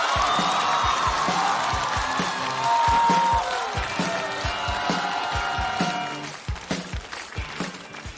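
A studio crowd at a stand-up comedy show claps and cheers to welcome a comedian onstage, a dense wash of applause over upbeat music that thins into scattered claps near the end.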